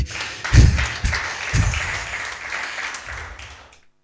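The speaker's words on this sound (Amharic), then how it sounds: "ሁላችሁም አንድ ላይ አጨብጭቡ ውስጥ።" Church congregation clapping together in a hall, a burst of several loud hand claps near the start followed by scattered, fading claps that trail off into quiet.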